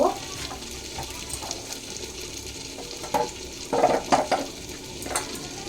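Mutton being stir-fried in a clay pot: a steady sizzle with scraping, clattering stirring strokes that grow louder and bunch together midway, and no voices.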